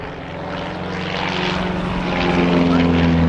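A Stolp Starduster biplane fitted with a 180-horsepower flat-four Lycoming engine drones steadily with a propeller hum, close and loud, the engine note building gradually in strength.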